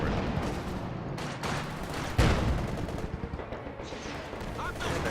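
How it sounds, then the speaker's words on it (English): Machine gun fire crackles in bursts across a Company of Heroes 2 battlefield, with one heavier boom midway. The shooting sounds moderately distant, and someone talks over it. "see that machine gun's gonna screw me"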